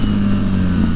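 A BMW R1300 GS motorcycle engine hums steadily at a low, throaty pitch, close and loud for a brief moment.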